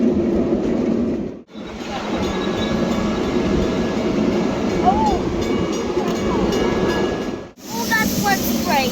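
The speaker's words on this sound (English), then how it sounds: "a little battery-powered train ride, too" A small battery-powered heritage park train ride rumbles and rattles steadily close by, with a continuous rolling hum and faint squeaks, pausing briefly twice and broken by short voices.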